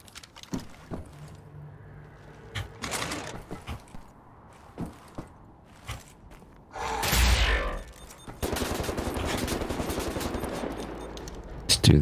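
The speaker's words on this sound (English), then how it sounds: "ammo's very limited, so we gotta make some good shots" Gunfire in the shooter game Wolfenstein: The New Order comes as scattered single shots and short bursts, then a loud sustained burst of automatic fire. Quieter stretches between the shots suggest movement and doors.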